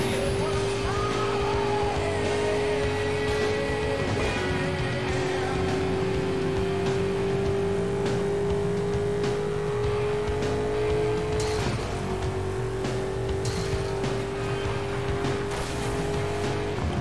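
Engines of racing cars in Burnout Paradise drone loudly and steadily throughout, with a sustained revving tone and occasional tire squeals, and no voices.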